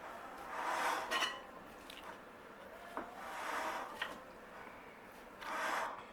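German potato salad is stirred in a bowl, giving soft rubbing and scraping strokes in slow repeated swells with a few light utensil taps, fairly quiet and without talk.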